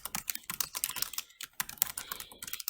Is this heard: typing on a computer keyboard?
yes